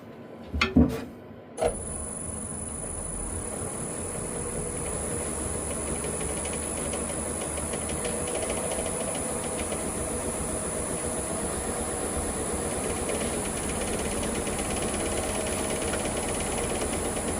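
A wood lathe spins a freshly cut green bowl blank at about 530 RPM, a steady continuous hum and whir with a slight wobble, preceded by a few brief knocks in the opening seconds.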